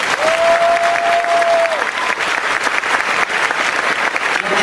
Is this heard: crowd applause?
yes